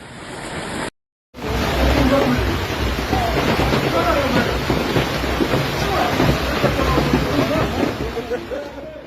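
Golf ball size hail pelting down during a Johannesburg storm, a dense, continuous roar of impacts that stays loud and steady after a short dropout near the start.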